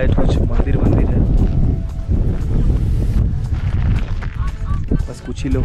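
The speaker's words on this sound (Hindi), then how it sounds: "बस हवा चल रहा है।" Strong wind blowing across the frozen high-altitude Gurudongmar Lake in North Sikkim, above 17,000 feet among snowy mountains, a steady loud buffeting rush that batters the microphone throughout, with a voice talking over it.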